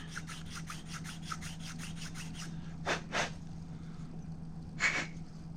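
Lapping a small part for night-light electronics: a run of quick, even rubbing strokes in a steady rhythm, then a few louder, longer scrapes and one last stroke, close and fairly quiet over a low background hum.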